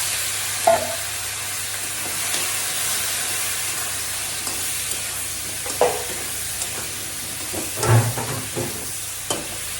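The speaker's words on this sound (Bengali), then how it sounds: "এখানে আমি কেটে রাখা বেগুনগুলো দিয়ে দেবো।" Cut eggplant tipped into a pan of frying potatoes, bringing a steady hiss and sizzle with intermittent stirring knocks and scrapes, close by and without talk.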